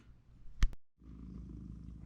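A house cat named Simba purrs close by, a steady low rumbling that fills most of the stretch after a short sharp knock and a brief silence, with no talking.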